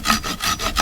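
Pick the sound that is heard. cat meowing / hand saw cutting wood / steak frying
hand saw cutting wood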